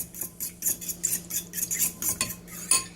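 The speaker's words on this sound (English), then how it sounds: "I'm going to go ahead and add that to the egg mixture. Get that kind of all mixed together." Egg mixture with dried basil whisked in a bowl for pork fried rice, quick rhythmic clinks and scrapes of a utensil against the dish, close and steady for the whole stretch.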